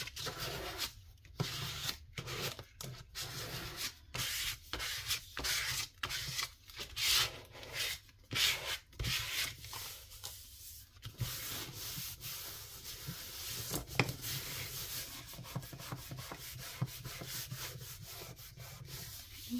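Paper rubbed and smoothed against a file folder journal cover, a steady close scratchy friction broken into quick bursts of strokes, then settling into a softer continuous rubbing.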